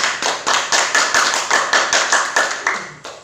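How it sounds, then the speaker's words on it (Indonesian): A classroom applauds a classmate with a short burst of about three seconds of brisk, even clapping from a group, close and loud, and no talk over it. "coba kita beri aplaus dulu untuk teman kalian"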